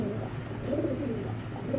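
Pair of foreign racing pigeons cooing softly close by, a low continuous burbling murmur that swells and fades over the short stretch, quiet and without voices.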